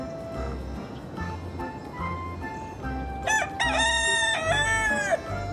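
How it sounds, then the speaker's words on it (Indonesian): A rooster crows loudly and close, a long drawn-out cock-a-doodle-doo over steady low rhythmic background noise, with no one talking. "Ternyata si ayam jago."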